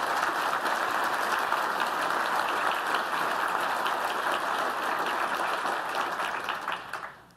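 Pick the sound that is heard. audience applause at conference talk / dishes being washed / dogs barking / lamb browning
audience applause at conference talk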